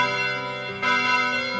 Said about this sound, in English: the distant yet clear sound of the bell ringing